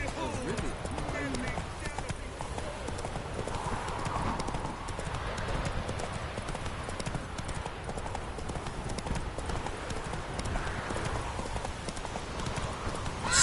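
Steady clip-clop hoofbeats of Geralt's horse Roach in The Witcher 3, running continuously with a trotting rhythm for the whole stretch, fairly close, over a low game ambience, with a voice faintly present.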